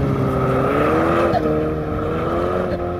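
A Saturn Sky sports car spins a donut on the Bonneville Salt Flats, its engine holding a loud, steady roar with a rising and falling pitch through the whole turn, close by.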